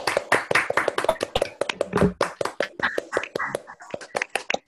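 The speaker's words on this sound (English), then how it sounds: "So I unmute everybody and clap." A few people clap together after an online lecture, quick uneven close-up hand claps with unmuted participants in the mix and no talking over them.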